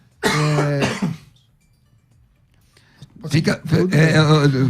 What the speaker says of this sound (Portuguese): Eu estou um pouco com tosse, peço desculpa, não sei se está aparecendo na gravação ou não